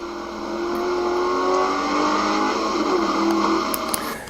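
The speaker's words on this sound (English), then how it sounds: "As you can see right there, there was a quick upshift to third." A Lingenfelter Camaro Z28 on a track at a motorsports ranch, its engine droning loudly and steadily from inside the car, the pitch climbing, dipping briefly and climbing again, heard alone without talk.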